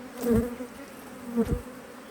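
Honeybees buzz during an early spring beehive inspection, a low droning hum with two louder passes as individual bees fly close by, fairly near and with no talking.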